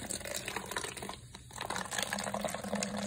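Mountain Dew Thrashed Apple soda poured into a glass indoors, a steady, close liquid gush and fill lasting about three seconds, with a brief dip in the middle before the flow resumes and strengthens.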